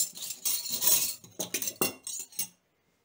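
Forks, spoons and other cutlery poured out onto a towel, a dense run of metallic clinks and rattles for about two and a half seconds, close and fairly loud, ending in silence.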